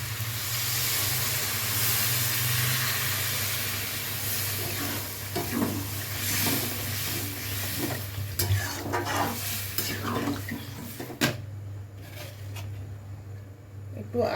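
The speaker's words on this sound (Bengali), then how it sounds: "এবার জল দেবো।" Water poured into a pan of fish curry being cooked, giving a loud steady sizzle and hiss that settles into bubbling, with clinks of a spoon stirring toward the end.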